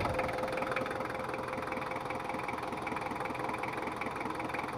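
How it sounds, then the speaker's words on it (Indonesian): A Ford Ranger 2.5 engine, recently rebuilt but leaking compression and down on power, idles cold just after starting, a steady even rumble with faint knocking, close and alone. "Langsung hidup ya lur, tapi masih belum anget untuk mesinnya."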